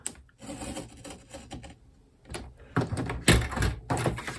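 Card is cut to size for an autumn barn door card, with bursts of scraping, slicing strokes from a paper trimmer, faint and close, growing louder toward the end, alone without talk.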